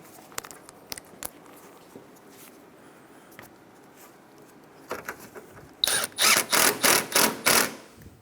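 A 10mm bolt is threaded back in under the hood of a 2007-2012 Nissan Altima during an upper radiator hose replacement. A few scattered metallic taps, then a rapid run of loud ratchet clicks in a steady rhythm, close by.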